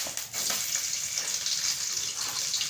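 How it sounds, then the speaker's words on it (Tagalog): Garlic rice frying in a little oil in a pan, a steady bright hiss and crackle that holds evenly from start to finish. "Magsangag na ako ng aking kanin. Ng konting mantika lang."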